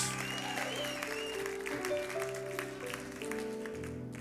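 A church congregation claps during a deliverance sermon, the scattered clapping layered over sustained music tones, moderately loud, with no clear speech.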